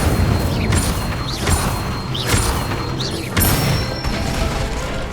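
Incendio fire spell cast in the video game Hogwarts Legacy: repeated whooshing magical bursts with rising chirps over a dense, steady game soundscape, followed by a louder flare near the end.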